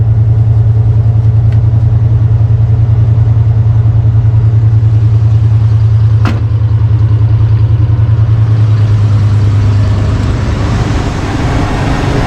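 A 1991 Ford Bronco with a head gasket fault idles: a loud, steady, low engine drone runs close and unbroken, with a faint click partway through.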